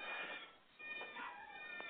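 A cat meows a few times at an animal rescue sanctuary, faint and somewhat distant, its short drawn-out calls standing out against a quiet background.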